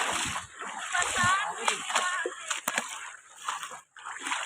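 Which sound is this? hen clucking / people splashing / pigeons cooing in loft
people splashing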